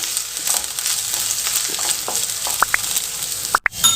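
Onion with ginger garlic paste frying in a pan, a steady sizzle broken by light stirring scrapes and a couple of small clinks near the end.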